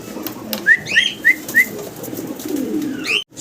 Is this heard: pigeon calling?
yes